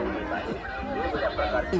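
Busy babble of a crowd at the Kunkeshwar yatra, many voices overlapping at close range in a continuous murmur, with a few nearer speakers standing out now and then.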